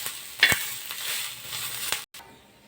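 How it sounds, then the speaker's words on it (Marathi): Onions frying in oil in a home kitchen pan for a chicken thali meal, a steady close sizzle with a few sharp stirring scrapes, a brief dropout near the end, no talking. "छान भाजला जातो कांदा."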